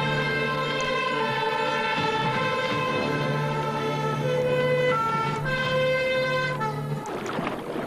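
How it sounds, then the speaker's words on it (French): A siren on a 1980s Peugeot fire truck in a French TV rescue show wails in long, steady held tones, loud and continuous, with other noise rising near the end. "Ce bon camion Peugeot de pompiers,"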